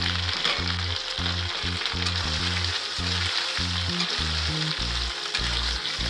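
Potatoes frying in a pan with ginger and green chili paste, a steady loud sizzle running throughout with no speech.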